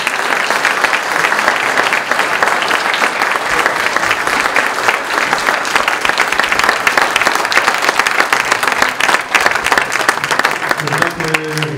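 Sustained applause from an audience at a mayor's New Year wishes ceremony in Saint-Guyomard, honouring a man named Damien; dense, steady clapping fills the room throughout, with a voice faintly emerging near the end.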